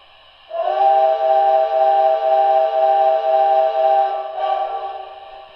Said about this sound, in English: Awesome sounding whistle.